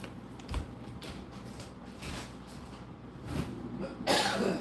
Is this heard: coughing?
yes